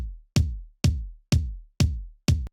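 Two unprocessed kick drums layered together thump five full, deep hits at a steady pace with no other sounds, each hit's low boom ringing out almost to the next.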